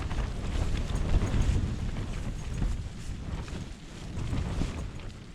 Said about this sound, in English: Bit windy like.